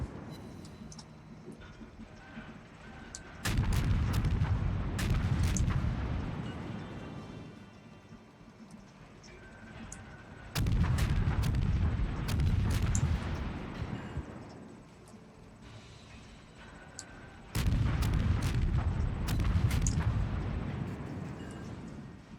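Main guns of the Murmansk cruiser in World of Warships fire three heavy salvos about seven seconds apart, each a booming burst that rolls off slowly into a quieter background.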